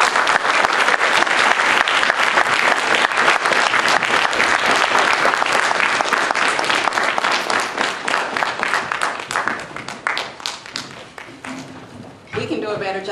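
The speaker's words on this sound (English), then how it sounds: "We can do a better job of this round of applause for Dr. Williams" A forum audience celebrating Black history makers gives a loud, full round of applause. The clapping holds strong for about ten seconds, then thins and fades as a voice begins near the end.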